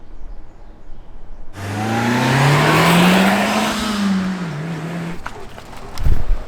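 A Mitsubishi Lancer Evo drives by, its engine rising in pitch as it accelerates and then easing off, loud and close for a few seconds before fading, followed by a brief thump.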